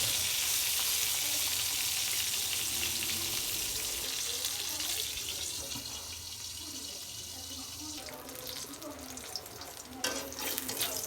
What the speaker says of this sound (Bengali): বেগুন ভাজা হয়ে গেছে, এবার আমি বেগুনটা উঠাই নেব।